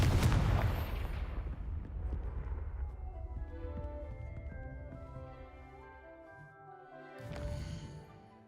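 The Confringo blasting spell in the video game Hogwarts Legacy erupts in a loud explosive burst that decays into a long rumbling tail, then a second, smaller blast follows near the end.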